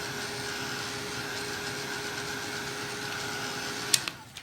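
A heat tool blows steadily over Distress Crayon colour on a craft surface, a constant loud whirring hiss with a faint tonal whine, cutting off abruptly near the end with a few small clicks.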